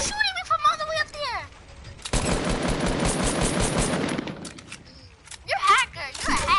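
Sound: gunfire shooting at the player in a video game

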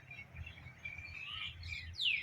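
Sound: birds chirping

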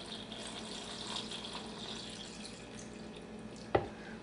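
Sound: water poured into a Vitamix blender for carrot top sauce

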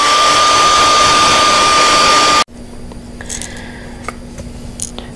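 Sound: heat gun heat-setting spray paint

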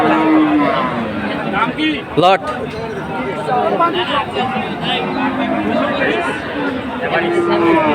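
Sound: cattle mooing

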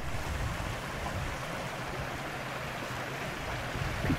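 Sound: stream water cascading over stones in Ardennes forest

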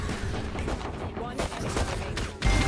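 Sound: gunshots from the video game Valorant

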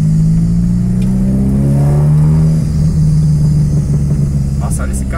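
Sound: Chevrolet Kadett car revving with exhaust popping

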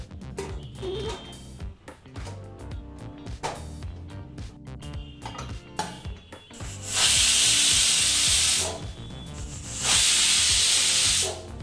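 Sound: pressure cooker whistle

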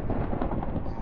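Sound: thunder from a lightning strike in the video game Minecraft

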